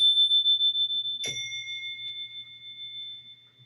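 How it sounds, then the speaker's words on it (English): A single bright bell-like ding rings out once, its clear tone sustaining and slowly fading over a quiet low hum. "listen to the bell"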